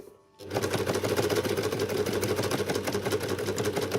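An overlocker serging curtain fabric starts up after a brief quiet moment and runs loud and close in a fast, even, rhythmic chatter.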